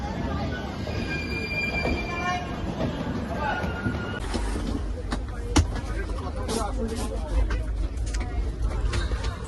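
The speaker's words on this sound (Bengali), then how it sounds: "আমাদের ট্রেন ঢুকে গেল।" A Humsafar Express pulls into New Jalpaiguri station, its wheels squealing in long, thin whines over a low rumble of rolling carriages, fairly close, with a sharp clank midway and people talking faintly nearby.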